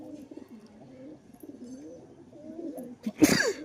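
Pigeons coo in a low, repeated rolling pattern close by, followed near the end by a brief sharp burst of noise.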